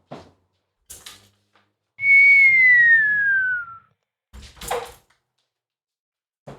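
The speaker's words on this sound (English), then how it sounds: "Getting a bit of a whistle." A single sustained whistle slides gently downward in pitch for about two seconds, clear and loud against near silence, with a few soft thumps and knocks before and after it.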